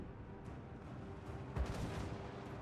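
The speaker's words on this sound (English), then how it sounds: "Cannons to fire on them as well." Cannons fire in the strategy game Total War: Warhammer 2 during a battle at a gate, a faint distant background din with one muffled boom near the middle, no talking.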